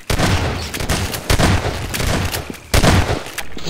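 Shotgun fire in the video game Modular Combat comes as a rapid series of loud, close, sharp blasts with short gaps between shots, and no talking.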